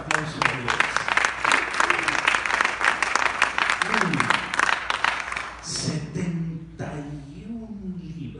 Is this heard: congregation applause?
yes